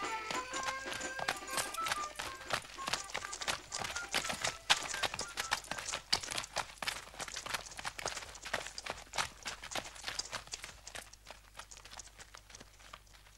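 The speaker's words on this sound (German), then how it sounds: "Lukes Pferd, also ist er zurück." A horse's hooves clip-clop in a quick, steady rhythm, crisp and close, with a brief tonal sound at the start.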